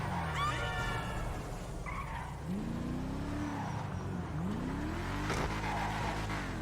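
A fast supercar in Grand Theft Auto 5 roars loudly as the engine revs and rises through gears, with tire squeals and a sharp burst near the end.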